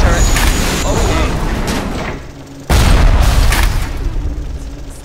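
Explosions from the Bioshock video game: two loud booming blasts, the first at the start and a second sharp burst midway, each decaying into rumbling noise, with a person talking over the game audio.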